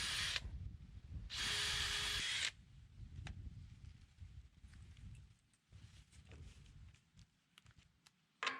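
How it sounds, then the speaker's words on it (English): Power drill driving a lag bolt into the legs of a floating deck, a short whir then a longer sustained motor burst close by, followed by rustling and handling noise. "here I'm putting a lag bolt in"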